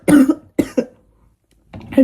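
Several harsh, close coughs in quick bursts, with a pause before another loud cough.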